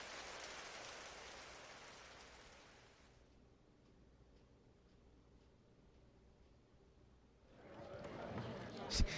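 Steady rain falls in the video game Trails through Daybreak, a heavy hiss that fades to a quiet lull and then swells loudly again at the end.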